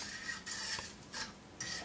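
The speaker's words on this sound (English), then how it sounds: "stir and get it all evenly cooked" Meat, onion and cream being stirred in a pan for stroganoff, with soft scraping and rubbing bursts in three or four short strokes, quiet and close.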